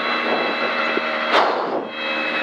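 An Opel Corsa rally car on a 2022 rally special stage, heard from onboard: a steady, loud engine roar with one sharp exhaust bang about halfway through.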